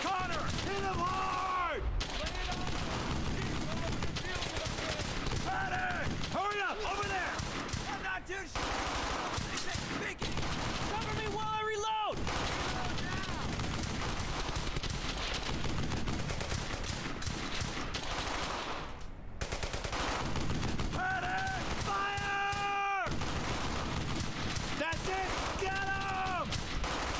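Rapid bursts of automatic gunfire and rifle shots in the World War II shooter Brothers in Arms: Hell's Highway, loud and nearly continuous across a busy battlefield mix, with shouted voices mingled in.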